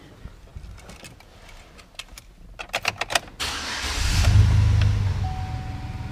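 A Chevrolet Silverado work truck with a 4.3 liter V6 cranks with a few quick clicks and whirs, then fires and settles into a steady idle, close and loud with no talk.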